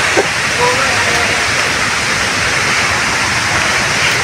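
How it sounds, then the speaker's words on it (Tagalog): Swollen floodwater pouring over Sabsaban Falls in a typhoon downpour, a constant loud hissing roar held evenly throughout, with a faint brief sound near the start but no clear talk. "Hanggang ngayon dito naririnig pa natin yung daos-dos ng tubig."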